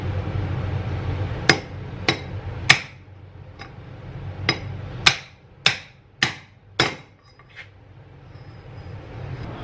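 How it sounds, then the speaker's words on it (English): Sharp metallic hammer blows on a jack handle ring out one at a time while fitting a drive shaft on a 2018 turbo RZR, about nine strikes at uneven intervals, each with a brief clanging decay, close and clear. "I'm going to use my jack handle and a hammer to get it on there"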